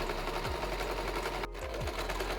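A sewing machine runs continuously at close range while stitching a double seam on a kameez, a steady rapid mechanical hum with regular needle pulses and a brief pause midway.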